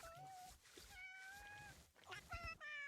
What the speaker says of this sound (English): Why am I in the middle of cats now?